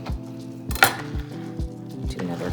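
A knife cuts through stacked tortillas on a cutting board, a series of regular dull thuds about every half second with one brighter clink of metal, nearby and clear.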